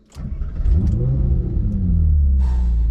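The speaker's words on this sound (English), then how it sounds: "Let's let the V8 do the talking." A Ferrari 458 Spider V8 engine roars up from idle into a deep, loud rev that holds and rumbles on, close by, with no voices.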